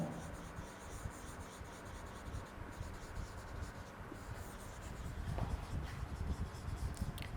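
Chalk or marker scratching across a board as petroleum notes are written, a continuous soft scraping with short strokes and pauses, close and fairly faint.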